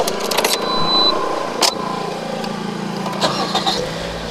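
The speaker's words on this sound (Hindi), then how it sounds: "बाकी आइए गाड़ी स्टार्ट करते हैं।" A 2019 Toyota Corolla Altis engine cranks and catches, then settles into a low idle inside the cabin, with a few short clicks and chimes around it.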